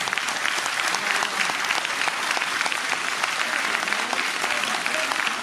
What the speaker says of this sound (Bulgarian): още веднъж силни аплодисменти за тези прекрасни дами